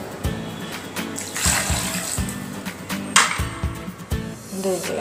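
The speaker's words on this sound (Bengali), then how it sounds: "পানি দিব" Water pours into a blender jar over sugar, salt and yogurt while preparing lassi, a rushing, splashing stream with repeated low thumps and a brief louder surge midway, fairly close and steady.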